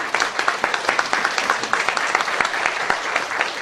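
A church congregation at an anniversary and ordination service applauds the ordinand's parents with loud, close, rhythmic clapping that holds steady throughout.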